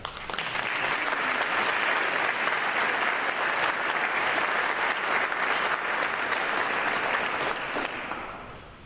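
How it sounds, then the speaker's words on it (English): A school assembly audience claps for scholarship recipients, steady, full applause held at an even level for about eight seconds before tapering off. "hold your applause till the end"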